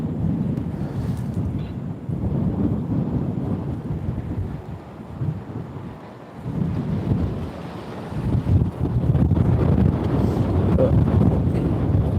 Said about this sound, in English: that wind's getting even stronger now